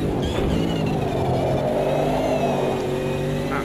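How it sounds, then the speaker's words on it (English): A GTO racing car engine in the Automobilista 2 racing game screams at high, nearly constant revs, buzzing against its limiter with a harsh, sustained whine. "You'll hear the limiter kick in when I fail to do so."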